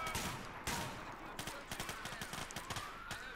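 Gunfire in GTA IV during a state patrol police shootout: a loud opening volley, then a run of rapid, evenly spaced shots at moderate distance.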